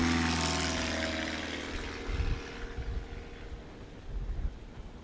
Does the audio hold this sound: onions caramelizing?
no